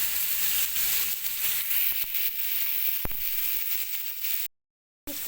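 Marinated shish tawook chicken pieces fry in a hot pan with a steady, bright sizzle and a few soft clicks, close by, before a sudden brief silence near the end.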